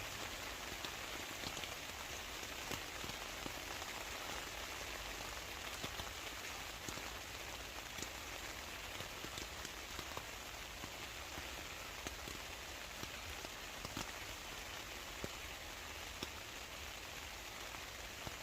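Steady rain patters continuously on an oex Coyote III backpacking tent, an even hiss with scattered individual drops and no voices.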